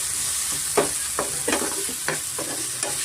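Chopped tomato and chicken fry in a pan over a medium flame, with a steady hiss of sizzling oil broken by about six distinct scraping stirs of a spoon, close and moderately loud, with no voices.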